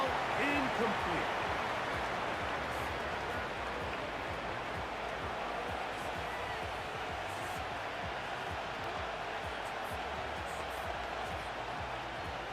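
A steady wash of crowd noise fills a stadium in a football video game, a broad continuous roar and cheer running throughout with little variation in loudness.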